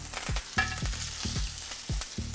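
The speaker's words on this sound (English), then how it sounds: "we're going to add our crushed garlic" Crushed garlic, rosemary and thyme hit a hot pan beside a crisp-seared ribeye, giving a steady loud sizzle with repeated spoon or utensil stirring taps in a loose rhythm, no voices.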